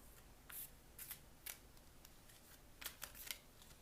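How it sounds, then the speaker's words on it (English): Quiet, crisp tarot card riffles and snaps come in short bursts, a few soft flicks spaced apart, then a cluster of shuffling sounds near the end. "And then we're going to go ahead and shuffle."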